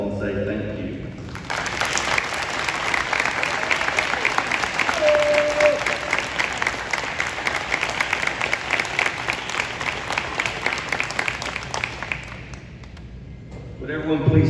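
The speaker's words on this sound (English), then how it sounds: "Let's give them a big round of applause and say thank you." A crowd at a high school girls' senior celebration gives a long, sustained round of applause, dense and steady for over ten seconds before fading, with a voice speaking at the start.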